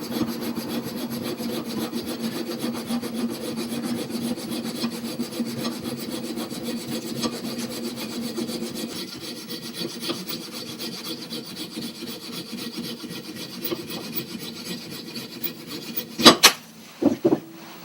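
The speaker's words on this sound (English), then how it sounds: "we're going to cut the back of the skull off with this saw" A handsaw cuts through the back of a sculpted skull clamped tightly in a vise, with steady back-and-forth rasping strokes for most of the run, thinning toward the end and closing with a few sharp knocks.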